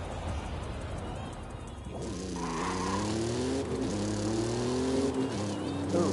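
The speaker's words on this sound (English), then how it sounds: "I don't know about this exhaust, though. Yeesh. That's what it really sounds like." A Ford Bronco's exhaust revs in the Forza Horizon 5 video game, a loud continuous engine note with rising and falling harmonics that climbs in pitch after a brief pause, with a voice talking faintly over it.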